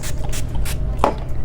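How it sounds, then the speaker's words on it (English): Mario Badescu aloe facial water spritzed from a pump bottle: several short, soft misting bursts at a steady rhythm, close by, with a small tap partway through. "Now I'm just gonna spray it with this Mario Badescu aloe water."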